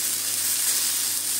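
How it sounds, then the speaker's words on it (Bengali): Food frying in hot oil at home while preparing pitha gives a soft, even sizzle that holds steady and close for a moment, with no voices. "ভেবেছি যে তেলে ভেজে নিব"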